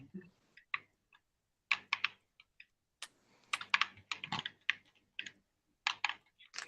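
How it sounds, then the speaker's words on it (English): Keyboard typing in bursts of quick clicks separated by pauses, close and fairly quiet, with no talking. "Somebody typing."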